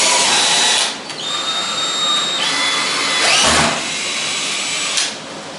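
A power drill driving screws into a panel, a loud steady whine with short pauses and restarts, alone with no talk.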